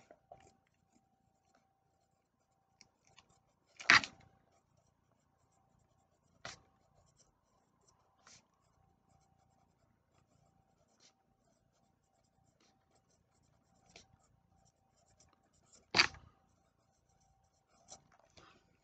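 A USA Gold cedar pencil writing on paper in sparse, faint scratchy strokes with a few louder scrapes and long quiet gaps between them.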